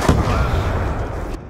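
Sustained, dense gunfire from the video game Black Ops 2, loud and continuous for the whole moment with heavy low booms, ending in an abrupt cut.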